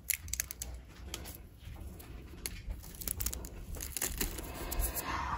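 Crisp snapping and crackling of dried, dehydrated cassava pieces being broken by hand, irregular sharp cracks close up over a faint background hiss.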